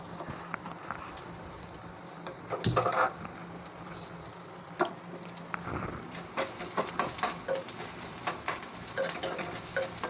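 Finely chopped onion with green chillies fries in a pan for gavarichi bhaji, a steady crackling sizzle broken by spatula scrapes and knocks, growing busier toward the end.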